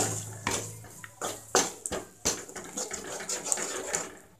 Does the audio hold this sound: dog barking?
no